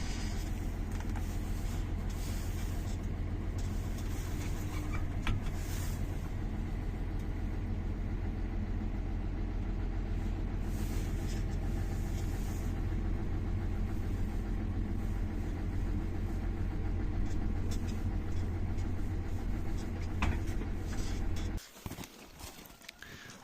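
An engine runs at a steady low idle after the revs drop, a constant deep rumble with a faint mechanical hum, cutting off abruptly near the end.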